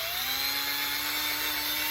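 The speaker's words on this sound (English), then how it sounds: "I'm going to just drill a little hole here," A small power drill whines steadily while boring a small hole in a planter, one continuous high-pitched motor tone rising slightly in pitch, close and alone with no talk.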